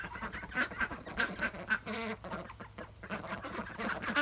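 Ducks quacking at a duck training camp, a small flock giving repeated soft overlapping quacks at a moderate distance with no talking.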